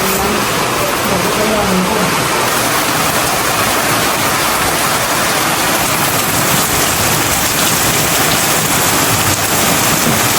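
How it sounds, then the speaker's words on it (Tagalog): Heavy rain hammers down in a dense, constant roar, loud and close, with a voice faintly audible beneath it. "sobrang lakas na po ng ulan"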